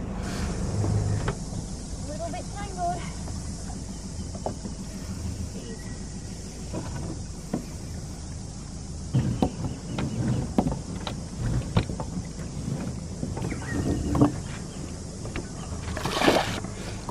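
A boat's engine idles with a low, steady rumble on the water while wind buffets the microphone, and occasional knocks and handling noises rise over it near the dock.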